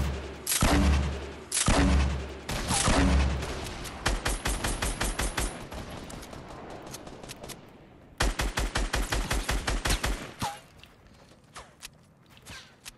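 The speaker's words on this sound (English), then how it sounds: "Looks like there's more people shooting from over there." Rapid bursts of automatic gunfire in a shooter video game, from other players, with heavy close volleys at the start giving way to quicker, lighter strings of shots and a brief lull before another loud burst.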